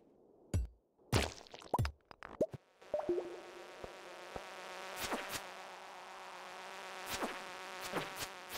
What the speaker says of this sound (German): Hier, du blöde Fliege.